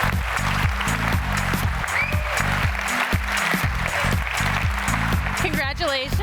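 Audience applause at an open source awards ceremony honoring Let's Encrypt, a steady, loud wash of clapping mixed with music or voices underneath throughout, with a brief whistle-like squeal near the end.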